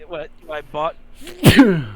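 One loud, close sneeze cuts in right after a brief spoken phrase during a tabletop role-playing game session.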